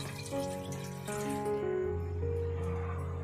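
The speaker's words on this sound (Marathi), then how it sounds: "आणि त्याच्यात पाणी ओतूया." Water runs steadily into a pot on the stove for steaming chicken, close by, a continuous rushing stream with a ringing tone that shifts in pitch as the vessel fills.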